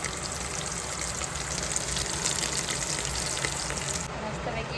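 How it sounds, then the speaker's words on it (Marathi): Dal tempering of onion, curry leaves, green chilli and cumin sizzling in hot oil, a steady close hiss and crackle that runs unbroken before cutting off near the end. "मस्तपैकी डाळीला तडका दिला आहे."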